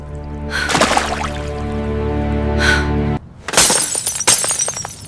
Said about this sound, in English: I break my phone screen!